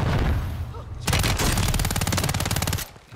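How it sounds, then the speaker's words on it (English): Rapid automatic gunfire from the video game Warzone 3 fills most of the clip, a loud, steady burst of closely spaced shots following a brief, quieter stretch of game noise. "round in the corner, shooting the enemy in the back"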